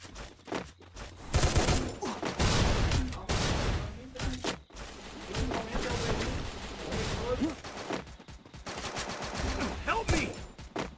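Dense bursts of rapid gunfire from a battle royale video game, with fusillades and machine-gun rattles crowding most of the stretch, loud and close, while players talk over the shooting.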